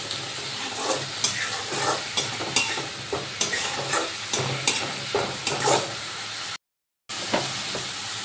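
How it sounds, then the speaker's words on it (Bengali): Spice paste stir-fried in a pan for a Gobindobhog rice and cauliflower dish, a steady sizzle broken by regular scraping strokes of a spatula, close and fairly loud, with a brief silent gap near the end. "এবার মশলাটা ভালো করে কষিয়ে নেব।"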